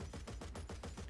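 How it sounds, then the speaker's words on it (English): Twin DShK heavy machine guns fire in the naval battles of War Thunder, a rapid steady burst of about eight heavy booming shots in even rhythm, loud and close with no talking. "Those are the twin dishkas that kind of sound like cannons, honestly"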